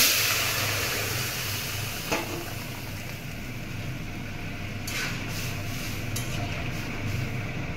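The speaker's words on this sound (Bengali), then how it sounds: "চিমনি চলছে তো ওই জন্য একটা আওয়াজ হচ্ছে।" A kitchen chimney exhaust hood runs with a steady broadband whoosh and low hum while dal cooks in tempering, a faint sizzle and a few brief clinks rising over the constant fan noise.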